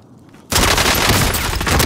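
Gunfire in the battle-royale video game Warzone: after half a second of near silence, a loud, dense burst of rapid shots and crackling erupts and roars on without pause to the end.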